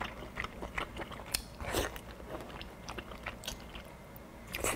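Crunchy bites and chewing of crisp food during a mukbang eating session, close to the microphone, with quiet irregular crackles and crunches.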